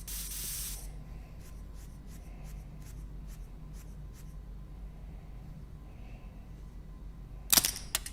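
A weapon is sprayed clean in a video game, giving a broad hiss at the very start and then a series of short, soft spray bursts in steady rhythm, with a sharp louder burst near the end over quiet background hum.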